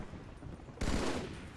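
Sniper rifle fire in the Halo 2 video game: a sudden loud burst of gunfire cuts in partway through, sustained and dense, following a quieter stretch of game ambience.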